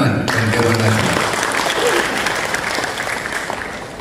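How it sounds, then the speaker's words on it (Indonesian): Applause from an indoor audience at an Indonesian national council anniversary gathering, a dense, steady clapping that stays loud for the whole stretch after a brief opening tone. "Luar biasa, kita tepuk tangan dan Dewan Nasional."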